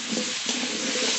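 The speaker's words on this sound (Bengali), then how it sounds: "আস্তে আস্তে জাল দিয়ে ভালো করে ভেজে নেব।" Pointed gourd pieces fry gently in a pan with salt and turmeric over low heat, giving a soft, continuous close sizzle with faint stirring movement.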